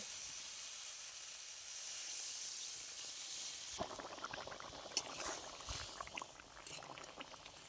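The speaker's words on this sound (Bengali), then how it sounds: "খুব ভালো করে ফুটিয়ে নিয়েছি।" Water boils with spiced fried potatoes in a pan, a soft continuous hiss of steam turning into close bubbling and popping with irregular small bursts.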